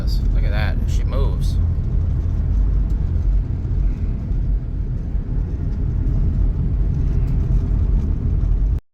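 A 2000 Chrysler Grand Voyager SE, long off the road, drives at speed with a steady engine and road rumble filling the cabin, and a voice speaks briefly near the start over the drone.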